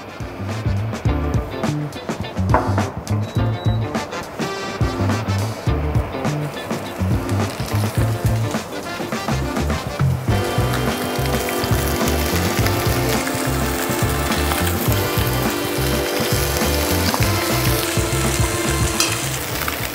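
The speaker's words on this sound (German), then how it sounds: "Wir lassen die Pfanne heiß werden, fügen ein bisschen Olivenöl mit rein." Fish frying skin-down in olive oil in a hot pan in a restaurant kitchen. It opens with clattering handling sounds, then gives way to a loud, dense, steady sizzle.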